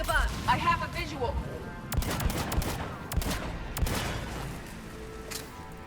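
Weapon fire in Mass Effect 3, a series of sharp, closely spaced shots and bursts over low combat rumble, with a voice speaking briefly at the start.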